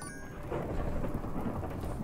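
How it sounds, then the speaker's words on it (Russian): In the video game Minecraft Dungeons, a thunderstorm rumbles outside: a steady low roll of thunder over rain, continuous and fairly full, with no talking. "я так понимаю, на улице, ребята, гроза"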